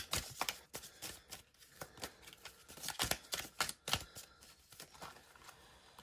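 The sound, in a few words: shuffling and drawing tarot cards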